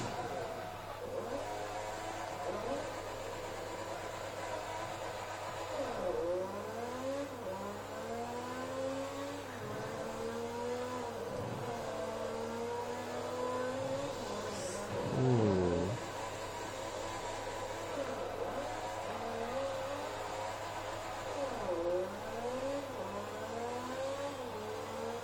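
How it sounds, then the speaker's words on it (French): A car in the Forza 3 racing game accelerates hard, its engine revving in repeated rising sweeps as gears change, steady and mid-loud over a constant low hum. "je prends beaucoup de vitesse et je vais aller directement dans le mur"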